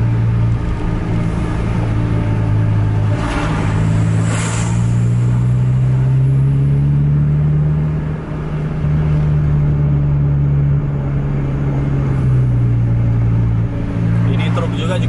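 A Scania bus engine running hard at high speed on a highway while chasing a Volvo, a loud sustained drone whose pitch climbs and shifts as it accelerates, with a brief hiss and faint talk inside the cabin.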